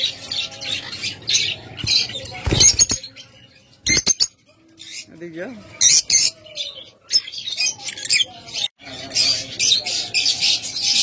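Pet lovebirds and budgerigars chirp and squawk in sharp, bright bursts, close and fairly loud, with a few pauses between flurries of calls.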